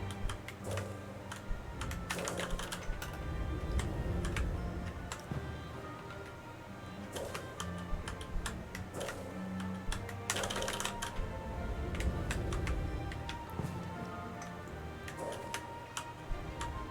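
Rapid, frantic computer keyboard mashing during a platformer game, a dense stream of clicky keystrokes with bursts of intensity, close and steady for the whole stretch with no talk.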